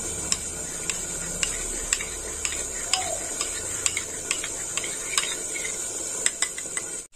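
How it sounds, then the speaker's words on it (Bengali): Spice paste, including turmeric powder, being stirred with water in a pan for a rohu fish curry with potato and pointed gourd, a steady scraping swirl broken by regular light clinks of a spoon against the vessel, close and continuous with no talk. "এবার আমি মশলাটা গুলে নেব"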